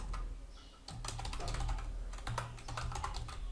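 Keys clatter steadily on a computer keyboard as keywords are typed into an AI image prompt, a close, continuous run of quick tapping with no talk.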